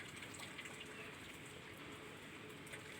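A flooded river overflowing both banks pours across a bridge in heavy rain, giving a constant, dense rushing and gushing of water at close range, unbroken and free of speech.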